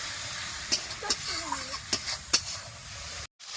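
A spice paste for aloo dum, cooked with homemade very hot chili and a splash of water, is stirred and sautéed, giving a soft steady sizzle broken by a few sharp spoon scrapes against the pan.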